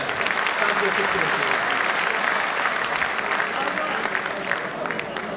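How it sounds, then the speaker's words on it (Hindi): An audience at a poetry gathering welcomes a poet with sustained applause, a dense, loud wash of clapping from a crowd that holds steady throughout, with voices mixed in. "तो यहीं से तालियों से इस्तकबाल कीजिए असलम राशिद"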